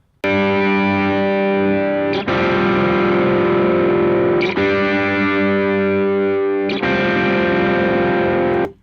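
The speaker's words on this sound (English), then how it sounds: "I just play what the main Strat was doing at the beginning" Crunchy overdriven Stratocaster electric guitar chords ring out, restruck about every two seconds and left to sustain between hits, with no talking.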